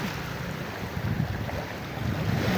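Choppy sea waves at midday under overcast skies, a steady rough wash of water with wind rumble and surges that swell in loudness, heard alone without talking.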